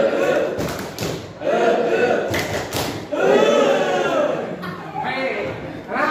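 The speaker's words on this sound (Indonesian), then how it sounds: "tepuk semangat." Schoolchildren in a classroom perform the Indonesian 'tepuk semangat' clapping chant, with several sharp group claps and thuds in bursts between loud chanted voices, all close and lively.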